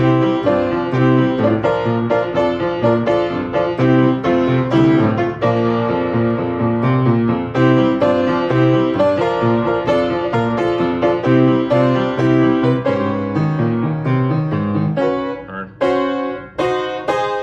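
A bright, triumphant video game victory fanfare plays loudly and continuously, with brisk melodic phrases over steady chords and no voices.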